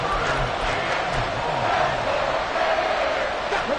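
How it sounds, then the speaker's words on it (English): Stadium crowd roaring in a Madden 24 football game, a dense, continuous wall of cheering and noise that stays loud throughout, with no clear individual voices standing out. "This crowd turning up the decibel level"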